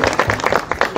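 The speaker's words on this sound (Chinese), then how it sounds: "热烈的掌声来欢迎这首曲目" Audience applause welcoming a samurai and taiko drum performance at a New Year event: close, dense clapping with irregular bursts through the brief moment.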